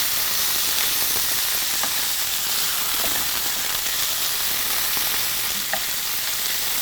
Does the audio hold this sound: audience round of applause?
no